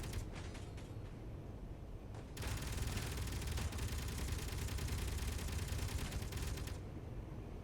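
Base turret gunfire pelts the player in Space Engineers, a dense continuous rattle of rapid shots and metallic impacts that swells louder partway through and carries on steadily without speech.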